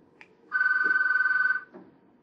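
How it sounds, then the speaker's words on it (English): A telephone rings once in a quiet room during a recorded oral-history interview: a steady electronic warble that lasts about a second, alone and moderately loud, with faint room noise before and after. "Let me get this phone here."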